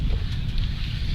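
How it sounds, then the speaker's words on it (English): Wind blows outdoors at a firefighters' drill competition in Nassau County, a steady low rumbling buffet against the microphone, loud and continuous through the brief moment. "Got a little windy too."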